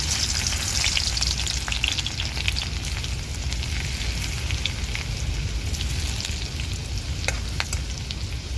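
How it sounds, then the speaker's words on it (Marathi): Seven crushed garlic cloves dropped into hot oil, frying with a loud, dense, crackling sizzle that stays steady for several seconds, close up, with scattered sharp pops and no talk. "आता इथं मी लसणाच्या पाकळ्या घेतल्या सात ताट ठेचून घेतल्यात त्या मी तेलात घालून घेते"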